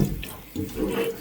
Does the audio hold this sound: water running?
yes